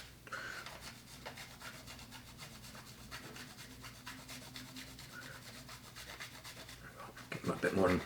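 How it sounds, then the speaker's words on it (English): Chocolate is grated over espresso martini cocktails, giving a continuous close scraping rasp that grows louder and rougher toward the end. "grate some of your chocolate on top"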